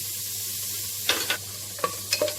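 Chopped ginger, a tablespoon of garlic paste and seven chopped green chilies sauté in a pan, a steady low sizzle with a few sharp scraping stirs spaced through the stretch; no one speaks.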